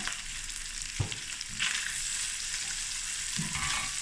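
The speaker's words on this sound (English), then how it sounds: "I'm going to add it to the mixture of the onions and garlic." Chopped viennas sizzle in a pan with onions and garlic, a steady close frying hiss with a few soft stirring knocks and no voices.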